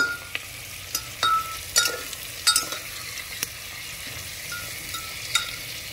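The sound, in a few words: stirring sukuti (dried meat) frying in a pan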